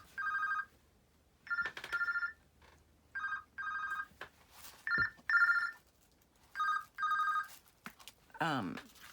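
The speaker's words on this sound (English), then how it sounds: "my phone is ringing and I have no clue where it is" A telephone rings in repeated electronic bursts, roughly eight rings spaced about a second apart, fairly close and clear with no talking.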